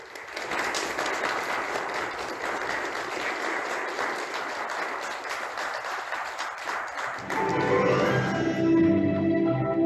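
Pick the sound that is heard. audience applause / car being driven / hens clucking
audience applause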